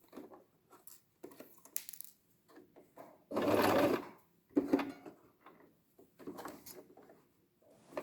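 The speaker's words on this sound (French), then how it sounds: "Je couds le pourtour à 1 cm." A sewing machine stitches around the edge of a cloth face mask, sewing a seam 1 cm in, with one sustained close burst of motor whir in the middle and quieter handling and fabric sounds before and after.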